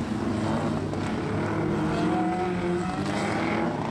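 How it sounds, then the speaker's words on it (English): Several vintage speedcars and sprintcars drone continuously from a distance at Archerfield Speedway, a steady blended roar with faint shifting tones as cars circle the track. "the cars on track there at the moment"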